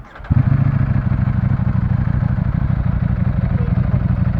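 A Ducati Panigale V4 engine fires up after a short crank, then settles into a loud, close, rapid rumbling idle.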